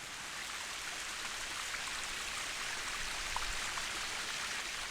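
Spring water pours from underground across the white travertine terraces of Pamukkale in Turkey, a steady, even rush of flowing water that fills the whole clip without pause or voices.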